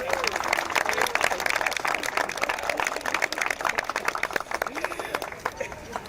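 Audience applause for honorees at a Women of Service for America tribute ceremony, a dense, steady wash of many hands clapping that holds loud throughout, with a few voices mixed in.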